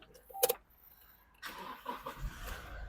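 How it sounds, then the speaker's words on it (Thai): A 2020 Toyota Revo 2.4 Mid four-door pickup, diesel, starts with a click, a short pause, then the engine cranks and catches into a close, low, rumbling idle. "เดี๋ยวไปสตาร์ทรถให้ดูกัน"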